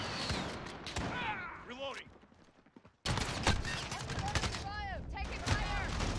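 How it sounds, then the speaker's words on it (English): Gunfire rattles in Call of Duty: Modern Warfare multiplayer, with rapid bursts and sharp single shots, a short lull midway, then dense firing resumes. Faint in-game voice callouts mix in. "Enemy fire. Taking fire."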